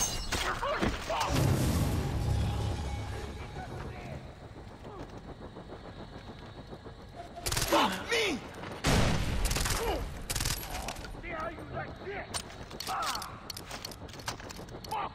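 Grenade blasts and gunfire in the video game Far Cry 3, with heavy booming bursts near the start and again midway, scattered impacts between them and a voice talking at points.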